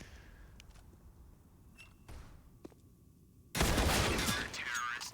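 MP9 submachine gun in a CS:GO match on Overpass, a few faint distant shots early, then a loud dense burst of fire with clattering impacts in the last seconds.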